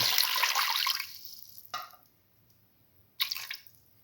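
Water pours into a pressure cooker while a lentil and bottle gourd rice dish is being made: one long splashing pour, then two short separate splashes, close and fairly quiet, with no voices.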